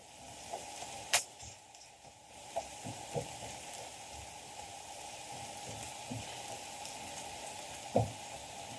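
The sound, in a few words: onions frying in a pan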